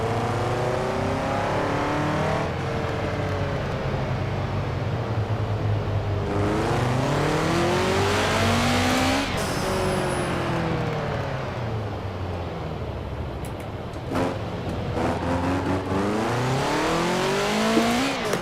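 Subaru WRX STi in Forza Horizon 4, engine loud and close, revving up through repeated gear changes with rising and falling pitch, then braking with brief tire squeal before accelerating again.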